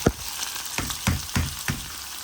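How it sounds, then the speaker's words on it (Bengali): Leafy greens frying in a pan with garlic and onion, a crackling sizzle punctuated by four or five regular scraping stirs, close and moderately loud with no speech. "শাকটা আমার ভাজি হোক"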